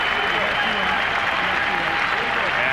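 A crowd of 21,000 at the Palace of Auburn Hills gives a long standing ovation at a 1991 Eastern Conference Finals basketball game, with sustained, dense applause and cheering that stays steady and loud throughout, blended with indistinct crowd voices.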